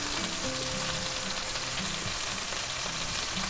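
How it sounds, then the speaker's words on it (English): Steak basting in hot butter with rosemary in a pan, a steady close sizzle and crackle of frying fat running without pause, with faint stirring or spooning sounds. "And we'll baste our steak with it. All that nice butter and rosemary."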